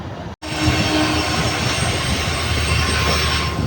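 A train pulls out of Rampurhat Junction with a steady, fairly loud rolling rumble and a faint thin squeal. The sound cuts out briefly near the start, and no one speaks.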